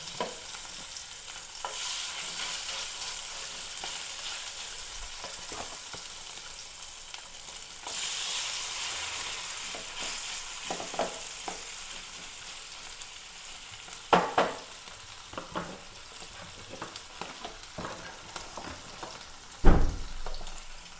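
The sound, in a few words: sardines (mathi) frying in a pan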